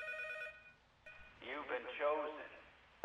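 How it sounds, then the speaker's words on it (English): Telephone ringing in the horror video game P.T., a short electronic ring repeated twice, fairly faint, followed by a person speaking. "Phone rings."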